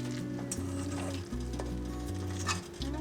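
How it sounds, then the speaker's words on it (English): Flour sprinkled into hot frying oil for wild-caught trout patties sizzles steadily and close up, a continuous crackling fry with no talking. "I'm just going to test to see if it's hot enough by sprinkling a little flour in there"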